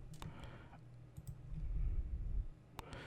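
Sparse clicks of typing on a computer keyboard, quiet and close, with a few sharp keystrokes separated by pauses over a low background hum.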